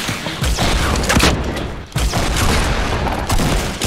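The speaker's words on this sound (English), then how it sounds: "they're shooting at us" Rapid bursts of gunfire from the Fortnite Battle Royale video game, dense overlapping shots filling the whole stretch with a brief lull midway, loud and close.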